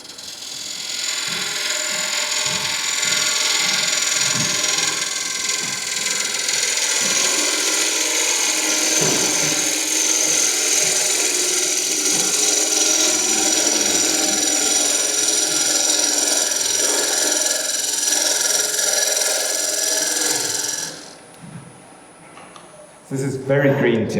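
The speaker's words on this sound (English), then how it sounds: "So there we're at 1200 RPM, and I'll just take a cut to true up this blank," A wood lathe spinning a green, wet timber blank at 1200 RPM as a tool cuts to true it up, giving a steady, close scraping whir that runs unbroken for about twenty seconds before cutting off.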